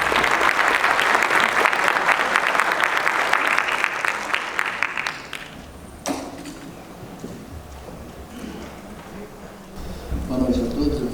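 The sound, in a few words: audience applause welcoming a lecturer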